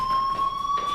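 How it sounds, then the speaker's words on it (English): An electronic fire alarm in the Life Is Strange video game sounds a loud, steady high-pitched tone with pulsing overtones, sustained without break and alone. "Hey, do you hear that fire alarm?"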